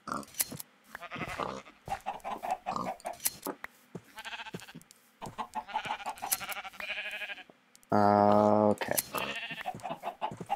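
Sheep bleating in the video game Minecraft: several short, near bleats scattered among steady talk, with one loud, sustained bleat standing out clearly near the end.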